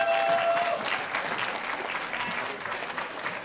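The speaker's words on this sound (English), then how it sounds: "Give her a big round of applause." An audience at a Russian heritage reception applauds warmly, sustained clapping from a room full of people at moderate distance, tapering slightly toward the end.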